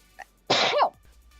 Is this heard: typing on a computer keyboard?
no